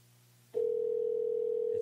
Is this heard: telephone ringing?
yes